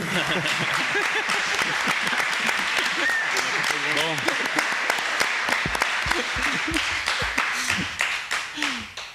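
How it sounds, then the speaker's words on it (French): An audience applauds the winning pair at a game show, steady clapping running throughout under continuous talk from several voices, fading out at the end. "Bravo à eux, on peut les applaudir."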